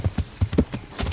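Horse hooves clop in a steady, quick rhythm from a mount in Kingdom Come: Deliverance, close and distinct, one after another across the moment.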